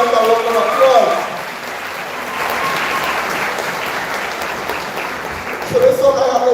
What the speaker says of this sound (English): Give the parents a round of applause.